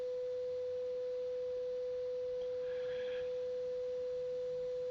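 Steady pure sine tone from a Class B amplifier built on a breadboard, one constant mid-pitch note held evenly throughout over faint background hiss, with no speech.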